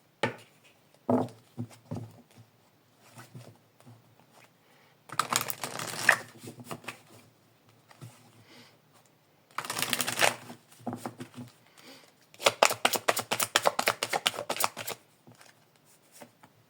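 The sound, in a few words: shuffling cards to draw a card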